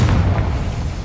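A Confringo fire spell bursts in Hogwarts Legacy, a dense, deep boom that rumbles on through the whole moment, loud and close, with no speech over it.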